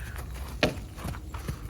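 Hoofbeats of a gaited horse shifting from a pace into its gait over a ground pole, a few soft, irregular thuds from a short distance over a low background rumble, with no talking.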